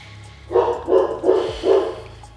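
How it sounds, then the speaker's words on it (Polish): A dog barks four times in quick succession, loud and close, with brief pauses between each bark. "przepraszam za psa."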